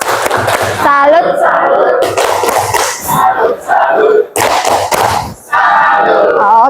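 A group performs a tepuk salut clapping chant, loud and close, with shouted voices and hand claps in short rhythmic bursts separated by brief pauses.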